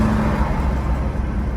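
A car driving to work on the road gives a steady low interior rumble of engine and tyre noise, close and continuous for a brief moment.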